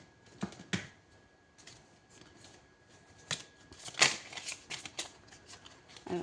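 Tarot cards are handled and flipped on a table, giving scattered close papery slaps and flicks with quiet gaps between them.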